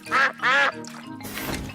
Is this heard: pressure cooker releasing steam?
no